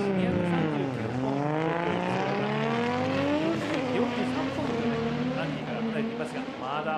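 At Formula Drift Japan in Okayama, a yellow-and-black drift car's engine wails and revs with rising and falling pitch sweeps as it enters the corner, heard under excited commentary with crowd and track noise around.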